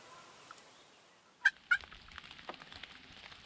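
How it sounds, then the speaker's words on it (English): Two quick, rattling gobbles from a wild turkey during a spring hunt in Pennsylvania, fairly distant, followed by faint clicks and rustling in a quiet outdoor setting. "We threw out a couple calls. We got one gobbled."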